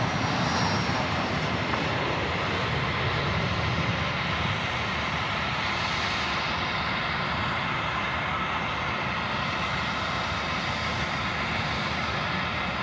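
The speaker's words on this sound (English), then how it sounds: "It looks like a super sluggish takeoff." Qantas airliner taking off at Sydney airport, a steady loud jet engine roar that holds through the whole stretch with a faint whine on top, heard alone without talk.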